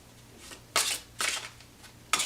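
Tarot cards shuffled by hand in three quick, soft riffling bursts separated by short pauses, close and fairly quiet.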